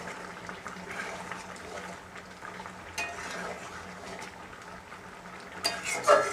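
Chicken curry with garam masala is stirred in a pot: soft scraping and occasional metallic clinks of a spoon over a low simmering bubble, louder clatter near the end.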